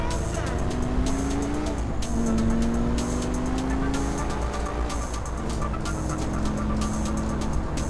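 A car in GTA IV: The Ballad of Gay Tony driving steadily down a straight road, its engine droning loud and continuous for the full stretch, with a rising whine in the middle and busy game sounds layered over it.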